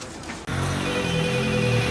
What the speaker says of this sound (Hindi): जरा रुक, किसी का फोन आ रहा है।